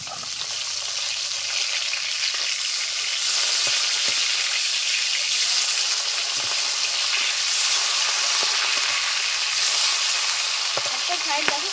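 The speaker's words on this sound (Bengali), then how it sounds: "মিডিয়াম আঁচে আস্তে আস্তে মাছগুলো ভেজে নিতে হবে।" Ritha fish frying over medium heat in a pan, a steady dense sizzle that holds close and fairly loud throughout with no talking.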